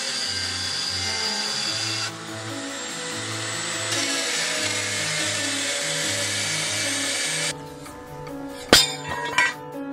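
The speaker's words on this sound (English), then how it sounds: "I'm going to use this guy, the die grinder set up in the clamp vertically, coming up through a hole in a plate to make the two of them the same" A die grinder clamped vertically hums steadily while grinding plasma-cut metal through a hole in a plate, a continuous close whine that shifts pitch before cutting off, followed by a few sharp metallic clinks.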